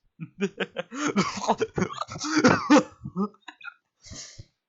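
A voice imitates a string of hacking, laughing coughs and throat-clearing bursts in quick succession, close and fairly loud, trailing off into a couple of softer coughs.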